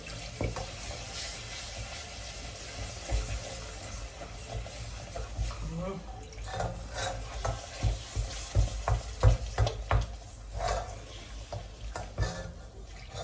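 Food is stirred quickly by hand in a pan over a soft background sizzle, with rhythmic scraping strokes that grow more regular and pronounced in the second half, heard close up.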